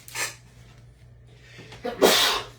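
A single close sneeze in a quiet room, a short intake of breath followed by a sharp burst.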